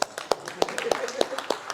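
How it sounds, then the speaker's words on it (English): Scattered claps from a small group follow a quick on-the-spot math answer, about eight sharp hand claps spaced out over a couple of seconds rather than full applause, with no talk over them. "Applause."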